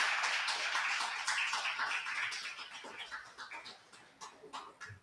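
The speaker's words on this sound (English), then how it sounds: "I please ask that you give them a big round of applause, everybody that's here" An audience applauds election candidates at a live city radio event, a dense wash of many hands clapping that stays loud for several seconds, then thins into scattered, separate claps near the end.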